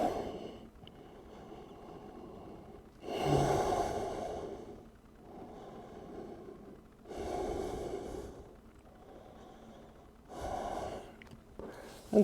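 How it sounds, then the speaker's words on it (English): Deep breaths during a yoga session, drawn in and let out in three swelling surges about four seconds apart, close and fairly soft, with quiet stretches between. "Breathing in deep."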